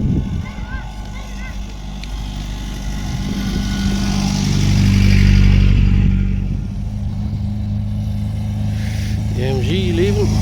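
A classic MG car pulls away from an outdoor car show in Belfast, its engine rising in a low rumble as it passes close and then fades. Someone talks over it.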